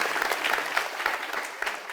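An audience claps briefly in steady, fairly soft applause with no voices over it.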